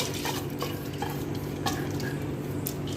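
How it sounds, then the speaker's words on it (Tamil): Moong dal poured and shifted into a pressure cooker gives a dense, gritty rustle of scattered grain clicks and small metallic taps, steady and close throughout. "இப்போ வந்து குக்கரில் நான் வந்து ஃபர்ஸ்ட் பாசிப்பருப்பு போட்டுக்கிறேன்"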